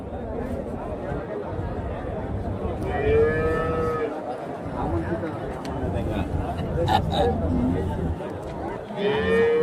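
Cattle at the Chintamani livestock market in Karnataka let out several drawn-out moos among a busy crowd, with people talking and chattering nearby throughout.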